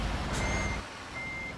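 A truck in Euro Truck Simulator 2 backs up with steady electronic reversing beeps over a low engine rumble, the tone thin and moderately loud.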